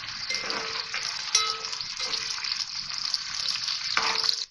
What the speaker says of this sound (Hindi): प्याज डालूंगी, 2 छोटी प्याज ली है, फ्राई करेंगे इसको और प्याज का लाइट ब्राउन कलर करना है